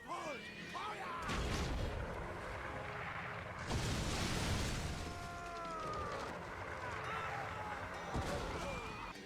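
Siege weapons in the medieval strategy game Ancestors Legacy fire on a building, with repeated heavy booms and crashing impacts over a continuous rumbling battle din, while voices call out over the action.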